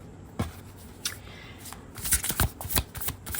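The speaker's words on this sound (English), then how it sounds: "It's a little hard to shuffle decks like that" Tarot card decks being shuffled by hand at a pick-a-card reading, a run of crisp riffling and flicking bursts, sparse at first and then dense and rapid toward the end, close and alone without talk.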